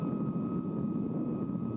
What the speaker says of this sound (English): the first jet transport on the North American continent, once again taxied out to the runway for its public debut.